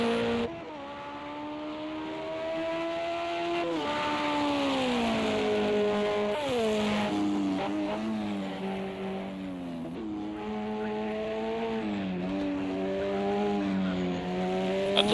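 BMW race car engine in a Le Mans 24 Hours racing video game, a steady high revving drone that rises and drops through gear changes for about fifteen seconds, fairly loud with faint tire noise and no voices.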